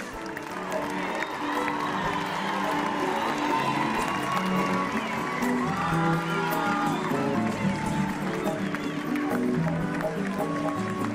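Concert audience applauding and cheering for a singer as he is called onstage, a dense, steady roar of clapping and shouts from a large crowd lasting several seconds.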